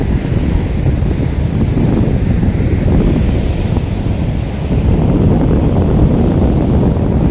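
Steady ocean surf rolls onto the beach at Pantai Cemara Indah, Gosong Telaga, with strong wind buffeting the microphone, a constant loud roar of breaking waves and wind for the whole stretch, no voices.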